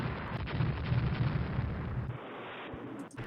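Naval gunfire in the Rule the Waves strategy game, as warships shell coastal batteries. It sounds as a dense, rumbling barrage of overlapping booms that holds steady, then thins out near the end.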